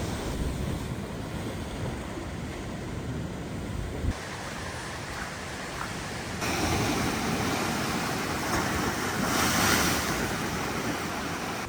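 Powerful storm waves on Lake Michigan smash into a shoreline wall in a continuous, heavy roar, mixed with wind buffeting the microphone and swelling louder toward the end, with no talking.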